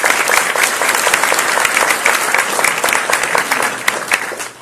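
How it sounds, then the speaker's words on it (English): A crowd at a community meeting in an elementary school gives loud, sustained applause for Louisa May Alcott, with thick, continuous clapping that fades slightly at the very end. "So please give Louisa May Alcott a big round of applause."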